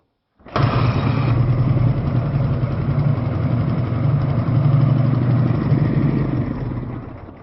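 An MT 10 trike engine with carburetors still needing adjustment catches and starts, then settles into a loud, steady, rumbling idle that runs without a break, close by and with no talk.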